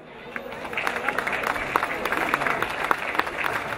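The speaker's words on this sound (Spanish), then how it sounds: "Pido un aplauso también para el profesor Armando Sánchez Briones, regidor de Educación" Applause from a crowd at a 16 de Septiembre parade ceremony in Tepalcingo, steady scattered clapping from many hands at moderate distance, with a voice talking over it.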